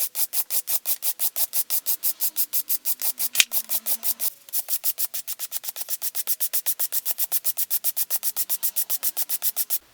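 Rhythmic hand brushing of an aluminum metal surface, a steady rasping scrape repeating in fast even strokes, loud and close, with a brief pause midway and no talking.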